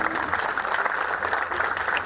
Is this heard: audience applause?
yes